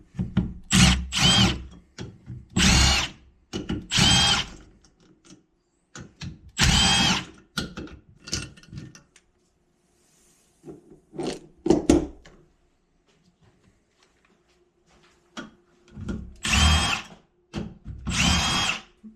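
A power tool removes rocker arms from LS engine cylinder heads in repeated short bursts of whirring, separated by pauses and small metallic clinks, close and fairly loud.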